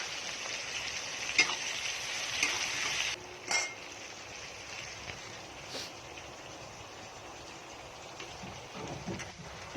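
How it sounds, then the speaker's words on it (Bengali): Onions frying in hot oil with cumin seeds and garam masala in a home kitchen for egg biryani, a steady hiss of sizzling for the first few seconds that then drops to a quieter crackle with occasional pops. "তেল গরম হয়ে আছে, জিরে ফোড়ন দিয়ে দিলাম, গরম মশলা দিয়ে দিলাম। এবার দেবো পেঁয়াজ কুচি।"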